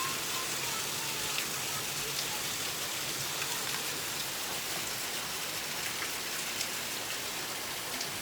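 Hurricane rain falls hard and steady in Jamaica, an unbroken wash of drumming drops near an open window, with occasional louder splats and no talk.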